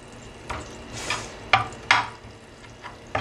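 Butter and jaggery sauce cooking in a pan, a soft sizzle broken by several sharp spoon scrapes and taps spaced through the short stretch, close and fairly quiet with no talk.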